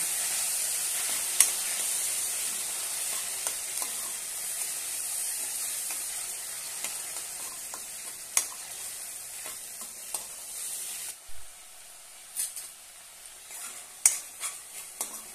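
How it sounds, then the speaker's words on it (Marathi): Tomato paste sautéing in a pan for a dhaba-style whole masoor dal, a steady soft sizzle with occasional spoon scrapes and taps against the pan, no voices. "आता यामध्ये टोमॅटोची पेस्ट घालूया। छानपैकी परतून घेऊया।"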